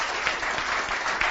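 Brief burst of crowd applause at a youth cycling event gathering, greeting the club president; continuous clapping, fairly close and even throughout.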